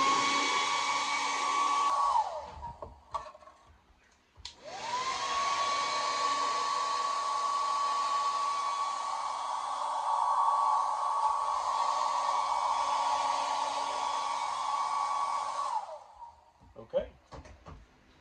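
A hair dryer blows steadily over weathering paint on a 1955 Ford panel truck scale model, running about two seconds, pausing briefly, then blowing continuously for roughly eleven seconds before clicking off, with faint handling noises after.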